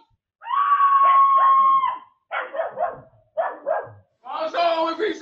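A dog in a back garden during a neighbourhood quarrel lets out a long, loud, strained yelp, then several sharp, close barks in short bursts.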